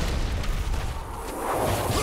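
A rocket explosion in the Halo 2 video game, a dense, roaring blast of broadband game noise that fills the whole short stretch at steady loudness, with no talk over it.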